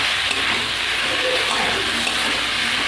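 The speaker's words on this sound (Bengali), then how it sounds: "জিরে বাটাটা দিয়ে একটু কষিয়ে নেব।" Ground cumin paste frying in a pan, a dense, loud, continuous hiss of sizzling oil that barely changes throughout.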